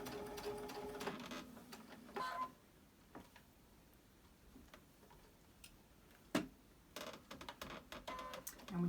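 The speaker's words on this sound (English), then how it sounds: "we're going to sew all the way up until we get in that intersection" A sewing machine stitches a seam on a fabric bowl cozy, its rapid mechanical ticking running in short bursts separated by quiet gaps, close and fairly soft.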